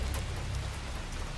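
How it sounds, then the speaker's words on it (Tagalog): Light rain falls at night as a steady, soft hiss of drops, even and unbroken, with no voices. "habang umuulan ng bahagya"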